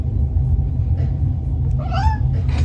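A pet cat lets out a single short meow over a steady low rumble, fairly close. No one talks.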